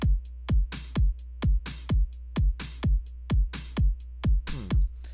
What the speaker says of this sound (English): Now, our hi-hats, I'm just going to do a simple fill 2 each step.